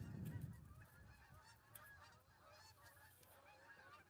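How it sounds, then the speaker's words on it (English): Canada geese honking as they fly overhead above a spring garden, a loud burst of honks at first that fades into fainter overlapping calls, heard outdoors with no talking. "we got all the Canadian geese as they're over the top of us right now"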